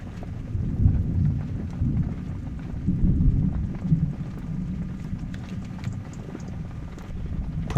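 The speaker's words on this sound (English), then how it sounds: "probably hear a little bit of that thunder out there" Low, rolling thunder rumbles steadily during an East Texas thunderstorm, with a continuous deep murmur that swells and fades without any talking.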